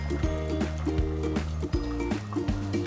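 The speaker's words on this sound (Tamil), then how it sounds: "குழம்பு நல்லா கொதிக்குது." A pot of fish curry (vaval fish kulambu) bubbles and gurgles steadily up close, with irregular popping and a continuous liquid churn.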